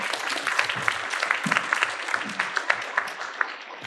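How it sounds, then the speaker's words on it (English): A housing forum audience claps to thank its panelists, a dense, steady round of applause from a sizable crowd filling the whole stretch with scattered sharper claps. "now you have to clap again"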